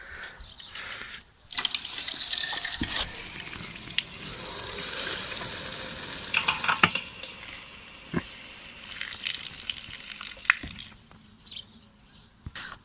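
Water gushes out of a hydrophore pressure tank in a steady hissing rush for several seconds, loud and close, then stops abruptly with a few clicks near the end.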